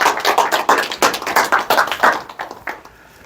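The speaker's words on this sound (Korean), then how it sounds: "김홍진 교수님을 뜨거운 박수로 모시겠습니다." Audience at a lecture giving welcoming applause, clapping in rhythmic unison in distinct bursts that repeat about three times a second before thinning and fading out near the end.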